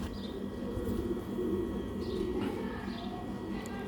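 Sialkoti pigeons coo in a low, steady murmur against a noisy background. A few faint chirps break through now and then, and the sound stays soft and continuous throughout.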